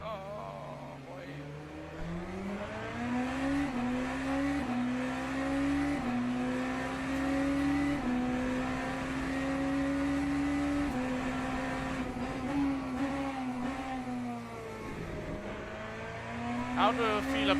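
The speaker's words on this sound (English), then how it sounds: "How do you feel about the sound of this car?" Onboard race car engine from Le Mans Ultimate at the Bahrain circuit, a loud steady drone rising and falling through gear changes with brief revving surges near the end, close and continuous.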